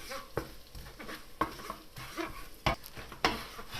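Diced shallot is stirred through a curried butter mixture in a pan, giving a few soft, irregular scraping strokes over a faint sizzle, close and quiet.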